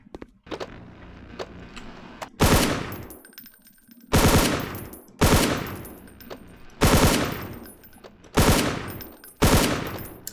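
Six heavy bursts of 5.56 rifle fire from a video game ring out at irregular intervals, each a loud sharp crack trailing into a brief decay, with quiet gaps and faint background rustle between shots.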